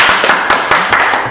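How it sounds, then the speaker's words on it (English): Hands clapping in a quick, uneven burst of sharp slaps, close and fairly loud, several claps in a row with no talking. "I'll even applaud for that."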